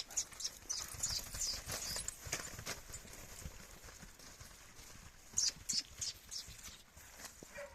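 Hooves of a mare clip-clopping at a slow, uneven walking pace, fairly quiet and slightly distant, with a bit of background rustle.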